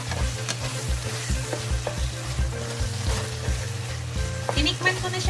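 Bagoong alamang shrimp paste cooks in a pan with pork chicharon, a close, busy sizzle under frequent spoon scrapes and clinks, kept steady throughout.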